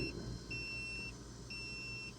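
RV leak-detection water shut-off valve closing, a faint motorized hum with a repeating pair of electronic beeps, quiet and alone.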